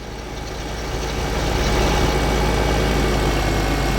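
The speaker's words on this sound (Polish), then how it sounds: "W tym momencie ja sobie jadę ten ciągnik odwieźć." Tractor engine idling in the video game Farming Simulator 13, a steady low, rumbling drone that swells slightly and then holds at an even level throughout, with no talking.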